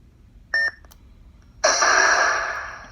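A lightsaber sound board on a Vader's Vault Ardent NBv4 RGB hilt plays a short electronic beep, then after a pause a longer swooshing, fading power-off tone, clean and close with no voices.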